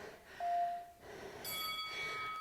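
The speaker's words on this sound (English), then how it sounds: "There's your bell. There's our bell." A workout timer bell sounds during an exercise session, first as a single sustained ringing tone, then as a brighter, higher ring that holds over continuing room noise.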